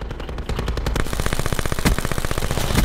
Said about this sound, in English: I shot this dude in his back